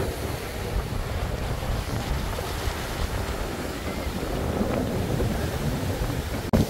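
Sea waves roll onto the shore at Beyt Dwarka as a steady, loud wash of surf, mixed with wind buffeting the microphone. No voices are heard.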